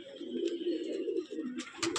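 Andhra pigeons in a breeding loft give continuous low, rolling coos close up, the calls overlapping in soft pulses, with a few sharper flutters or rustles near the end.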